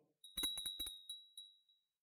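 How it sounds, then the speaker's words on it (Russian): A small hand bell shaken gently gives several quick, light jingling strikes over a sustained high ring that fades out, quiet and close, with no talking. "Начнем с колокольчика. Позвоним в него с несильным воздействием."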